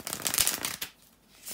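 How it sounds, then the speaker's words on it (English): Tarot cards are shuffled by hand in a brisk, close riffling burst that stops briefly, then starts again. "give me just a couple of seconds here to shuffle the tarot cards"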